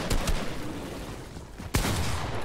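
Gunfire in the Fortnite video game, a few quick shots at the start and a sharp loud shot about two-thirds through, close, with dense game noise between them.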